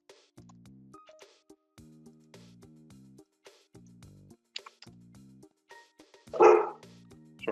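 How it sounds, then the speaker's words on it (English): A dog that has just woken from a nap gives a single short, loud bark, heard alone in an otherwise quiet indoor room after some scattered soft background sounds. "my dog is laying there and just woke up from a nap"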